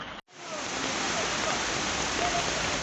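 Loud, steady roar of a rushing floodwater torrent after heavy rain and landslides in Mangan, North Sikkim, a dense continuous wash of water after a brief dropout at the start.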